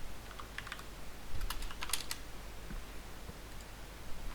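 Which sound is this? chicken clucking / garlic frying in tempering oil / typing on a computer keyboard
typing on a computer keyboard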